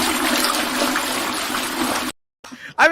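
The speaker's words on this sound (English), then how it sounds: "Yeah, toilet flush." A toilet flushes with a steady, loud rush of water for about two seconds, then cuts off abruptly; brief talking follows.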